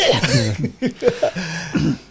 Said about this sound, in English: I'm being coughed at.